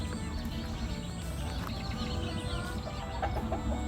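Chickens cluck around a village house, with short scattered clucks and calls over a faint outdoor background, fairly distant and quiet, with no talk.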